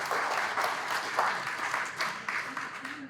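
Enthusiastic audience applause at an energy talk on subsidized fuel for the three speakers, a dense crowd of many hands clapping steadily throughout, with faint voices mixed in.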